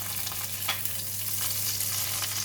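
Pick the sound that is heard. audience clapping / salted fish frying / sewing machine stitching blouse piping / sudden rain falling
salted fish frying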